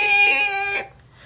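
A voice imitates car tires squealing around a corner: a single sustained, harmonic, whine-like vocal screech lasting under a second, fairly loud and close, then silence.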